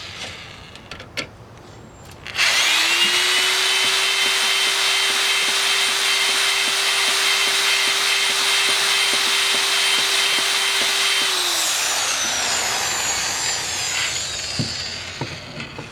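Drill-driven hone deglazing an engine cylinder bore: a steady, loud grinding whir starts abruptly, holds a constant pitch for about nine seconds, then winds down and fades into quieter handling noise.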